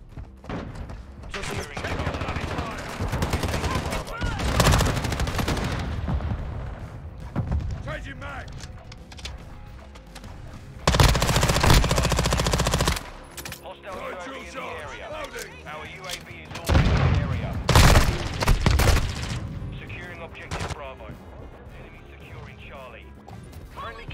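Gunfire in Call of Duty Modern Warfare 2 on the Shoot House map with a BAS-P SMG, heard as rapid bursts and heavy crashes mixed with explosions and game sound effects, while a player talks over much of it.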